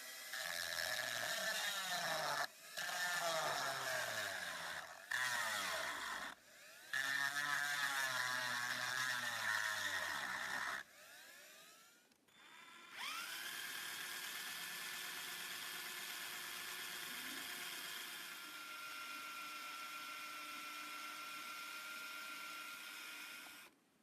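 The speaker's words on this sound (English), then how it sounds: "I've drilled out the rivets there that were holding these switches in." A drill bores out the rivets holding the switches on a Soviet Aelita electric guitar, whining in several close bursts with short pauses before settling into one long, steady run.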